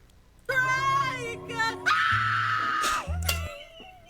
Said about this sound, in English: I love this scream, by the way.